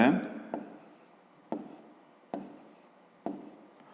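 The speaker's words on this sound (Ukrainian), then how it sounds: "Записуємо в ящичку ББ." A pen writes an answer to a fifth-grade maths exercise in a notebook, making four or five short, evenly spaced scratching strokes, close and quiet, with a brief murmur at the very start.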